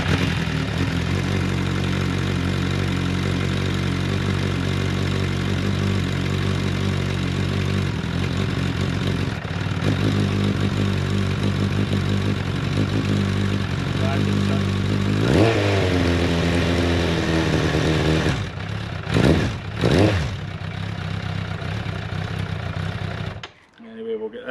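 A first-generation Suzuki Bandit 1200 motorcycle on choke runs steadily at close range, its engine note holding at idle before a few sharp revs near the end and a sudden cutoff.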